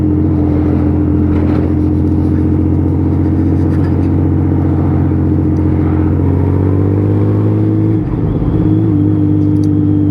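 A rebuilt Honda Valkyrie 1500 motorcycle engine, recently through a carburettor rebuild after hydrolocking, idles with a steady, deep, even rumble close by, with a brief dip and blip near the end and no talking.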